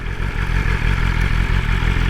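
A BMW S1000RR's 999cc inline four-cylinder engine with ShiftCam runs loud and steady throughout, a smooth continuous motor tone with faint regular clatter, no voices.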